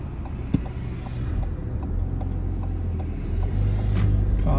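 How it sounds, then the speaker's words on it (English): Fast-moving traffic passes on a dual carriageway along a driving test route through St Thomas and Fabian Way, a steady low engine and tyre rumble that holds at a constant level and swells slightly toward the end. "We've got fast moving traffic now coming from the right hand side."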